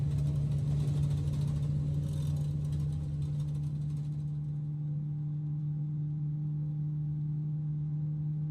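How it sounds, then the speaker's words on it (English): Airbus A320neo engines in Microsoft Flight Simulator 2020, a steady low engine drone with a constant tonal hum, louder at first then settling to an even, quieter whir with no voices. "Let's hear the engines for a moment."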